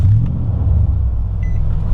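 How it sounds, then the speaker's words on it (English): Engine of a Nissan Titan pickup truck idling high just after starting, a loud, steady low rumble close by that holds its pitch, with a brief faint beep near the end. "That it revs up so high when it starts."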